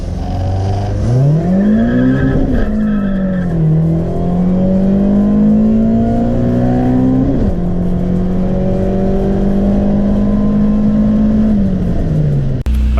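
Car engine revving and pulling hard on a test drive after a Y8 transmission swap, rising through gears with a sharp shift, loud and close, sustained drone throughout.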